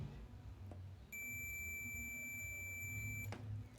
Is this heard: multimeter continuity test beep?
yes